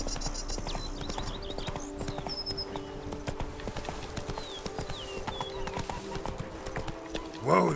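Roach, Geralt's horse in the video game The Witcher, trots with steady clip-clop hoofbeats at close range, with birdsong above, and snorts and whinnies at the end.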